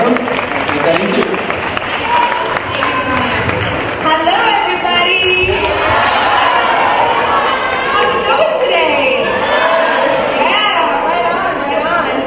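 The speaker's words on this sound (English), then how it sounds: "So let's give her a big round of applause and welcome." An audience at an anti-bullying assembly applauds and cheers, with loud sustained clapping and crowd chatter filling the whole stretch.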